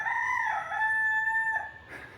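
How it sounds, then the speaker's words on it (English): A rooster crows once in Nzérékoré, Guinea, loud and close, a long rising-then-falling call lasting about two seconds with no other sounds around it. "The roosters are quite prominent here."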